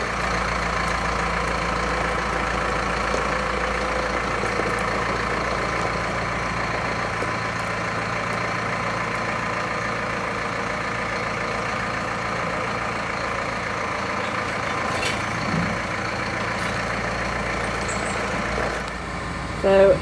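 A farm tractor engine idles steadily nearby with a low, continuous rumble and faint knocking, unchanging for the whole stretch.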